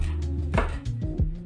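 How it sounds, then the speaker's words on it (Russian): A knife finely chops a garlic sprout on a board, giving a few distinct, close cutting knocks at irregular intervals. "Далее беру один росток чеснока и мелко его нарезаю."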